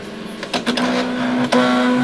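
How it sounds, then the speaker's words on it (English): A dot-matrix-style printer on a dusty Coulter ACL 100 coagulation analyzer strains and jams, giving a steady mechanical whine with a few sharp clicks and feed bursts, close and moderately loud, with no talk. "Printer seems to be suffering. Oh, there we go. It's jammed up a little bit there."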